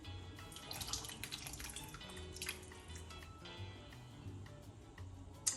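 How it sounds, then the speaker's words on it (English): Coconut milk poured into a cooking pot gives a soft, trickling, dripping liquid sound with faint clinks, low and close in a home kitchen. "I'm gonna put some of this coconut milk in just cause I feel like it"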